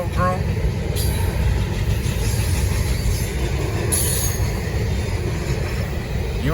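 Norfolk Southern freight cars rumble steadily past at close range with a continuous rolling roar, wheel squeal and clanking, while someone talks over the passing train.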